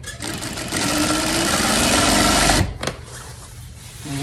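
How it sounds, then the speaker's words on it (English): A sewing machine runs steadily, stitching fabric right side to right side for a fabric rose. Its loud, even mechanical whir continues for a few seconds, then stops abruptly, leaving faint room noise. "I'm gonna touch right side to right side like this, and then I'm gonna sew it down."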